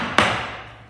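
A chisel cuts a chamfer into wood with a single sharp, close strike that fades quickly into a quiet background.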